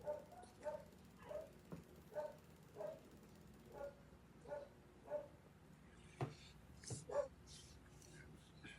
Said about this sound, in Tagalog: Maingay na aso.